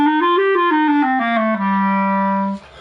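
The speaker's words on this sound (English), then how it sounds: "Natural minor sounds like this." A minor natural scale played on a sustained, reedy melodic instrument, with notes gliding smoothly down step by step to a long held low tone, clear and close with no voices.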